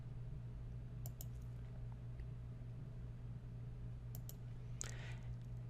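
Computer mouse clicks on a Save button: a few faint, sharp clicks in pairs over a steady low hum, with no talking.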